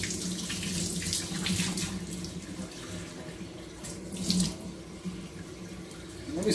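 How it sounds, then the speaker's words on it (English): Tap water runs steadily into a sink while hands are washed in a home kitchen, a continuous close splashing rush with slight shifts as the hands move under the stream. "now what I want to do is wash my hands"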